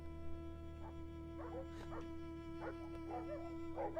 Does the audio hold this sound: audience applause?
no